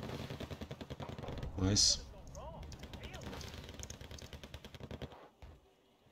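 A few sharp rifle gunshots in a video game, preceded by a steady rapid mechanical clatter, with someone talking over the action and a brief loud burst partway through.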